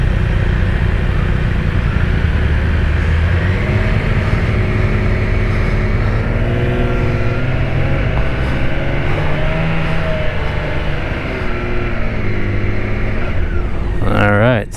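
A 2024 BMW K1600B motorcycle engine running with a smooth, steady close drone and gentle rises in pitch as it revs, while someone talks over it.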